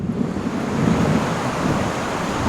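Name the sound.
shallow river water at Mexico-Guatemala border crossing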